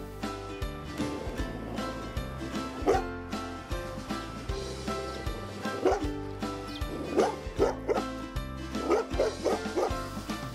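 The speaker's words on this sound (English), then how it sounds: "Next up is Max, a Great Pyrenees Golden Retriever mix, 9 months old." A 9-month-old Great Pyrenees Golden Retriever mix dog barks repeatedly in short yips and woofs over a steady bed of background music, with the barks coming more often toward the end.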